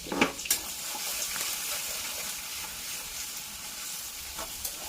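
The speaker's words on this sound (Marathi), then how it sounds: "तर तो आपण आता कढईमध्ये टाकूया मस्त ठेचून घेतलेला लसूण" Crushed garlic sizzles steadily in a hot kadhai of oil, a dense, continuous frying hiss with a few sharp crackles near the start and light scraping from stirring, close and fairly quiet.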